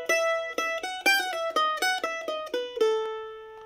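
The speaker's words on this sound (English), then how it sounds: "Okay, that's our first two-measure phrase." Solo mandolin plays the opening two-measure phrase of the tune Stoney Point with alternate picking, about a dozen crisp plucked notes ending on a ringing held note, close and clear.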